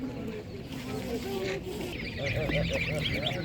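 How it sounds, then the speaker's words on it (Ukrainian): Geese at an outdoor Saturday animal market honking repeatedly amid other fowl calls and background chatter, the nasal calls overlapping and growing busier toward the end. "так, гуска."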